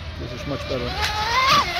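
A Wild Thing RC boat with a longer rudder blade corners at full speed, its electric motor whining up to a loud, rising pitch over rushing water, with a voice briefly audible.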